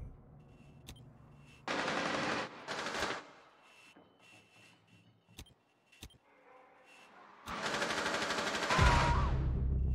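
Bursts of automatic gunfire from a Rainbow Six Siege match, two short rapid volleys early and a longer louder burst near the end, with isolated sharp shots and mechanical clicks between.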